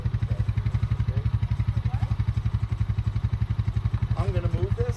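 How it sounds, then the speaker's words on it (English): A tractor engine chugs steadily and close by as it is moved near a broken fence on a goat farm, with a fast, even pulsing rhythm throughout and faint background sounds near the end. "I'm going to move the tractor and I'm going to have you scoot over the tractor"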